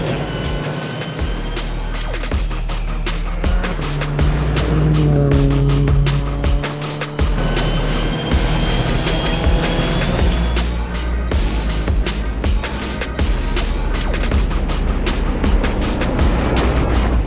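A car driven fast by Travis Pastrana gives a loud, steady engine drone that holds without a break, shifting pitch slightly as it pulls and eases through the ride.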